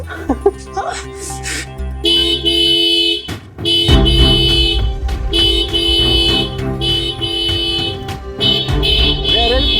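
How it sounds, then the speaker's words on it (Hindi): Loud, sustained blaring car horn or alarm tones that repeat, mixed with people talking and shouting nearby. "ये इतने तेज हॉर्न कौन बजा रहा है"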